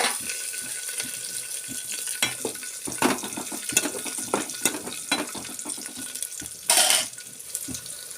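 Coriander and curry leaves hit hot oil in a pan for a Kannada-style karigadubu filling, giving close crackling sizzle with scattered pops and stirring scrapes, plus one brief hissing burst near the end.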